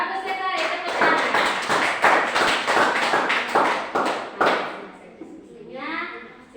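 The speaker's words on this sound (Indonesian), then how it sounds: "Ya, bagus sekali, tepuk tangan." Classroom applause during a Pancasila lesson, a burst of many hands clapping in a dense, fairly loud patter for about four seconds before fading, with children's voices chattering over it toward the end.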